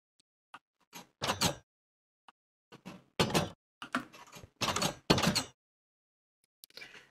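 Doors sliding open and shut in a video game dungeon door maze, a run of short thuds and scraping bursts spaced irregularly, some brief and faint, others louder and longer, with near-silent gaps between.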